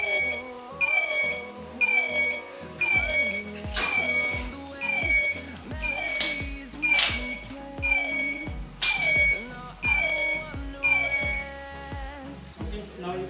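Smart helmet project electronics sounding a repeating warning tone, a series of bright electronic beep bursts in a steady rhythm about once a second, loud and close, with patterned pitch sweeps in each burst.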